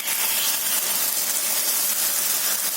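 Moong dal dosa batter sizzling on a hot oiled tava, a steady, loud, close hiss that holds evenly throughout without pause and with no voices.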